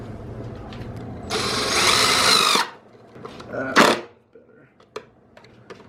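A power drill whirs loudly for about a second, pauses, then gives one short burst, with faint clicks and scattered noises afterward.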